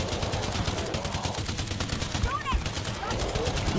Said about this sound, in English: I have a steady stream of bullets going